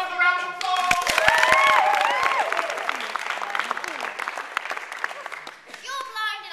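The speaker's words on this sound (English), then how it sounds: "Start off the round of applause." Applause breaks out from an audience at a Merry Men children's theatre show, a burst of claps rising amid lively stage sound effects, music and young voices, fading before a speaking voice returns.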